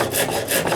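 Coarse side of a Japanese rasp rounding the edges of a wooden bow tip in a workshop: a brief, close, scratchy rasping stroke, rough and rhythmic, with no talk.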